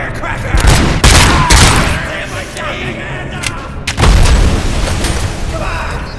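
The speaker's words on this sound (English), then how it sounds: "Throwing firecracker!" Firecracker blasts during a gunfight in RoboCop: Rogue City: several loud booms and cracking bursts land close together amid gunfire, with game voices shouting over the action.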